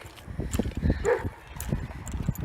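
A puppy gives a few short yips and whimpers close by, mixed with scuffling and background noise over a couple of seconds.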